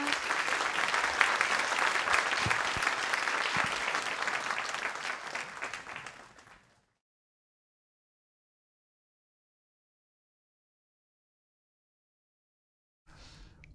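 Audience applause at an architecture symposium in Japan, a dense, loud wash of clapping for the lecturers that fades out after several seconds, followed by silence and a brief burst of sound at the very end.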